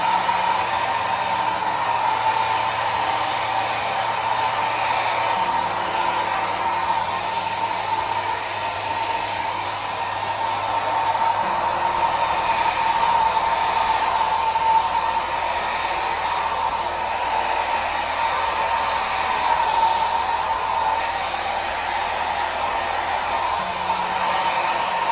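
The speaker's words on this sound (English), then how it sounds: "Pop the air bubbles with my hairdryer." A hair dryer blows in a steady, continuous whoosh over acrylic paint poured onto a surface, its motor hum holding level at moderate loudness nearby for the whole stretch with slight shifts in pitch.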